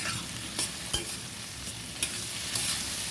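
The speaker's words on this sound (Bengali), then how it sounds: "আলু পেঁয়াজটা একদম লাল লাল করে ভাজা হবে" Potatoes and onions fry in a pan, a quiet steady sizzle broken by a few scraping stirs of a spatula.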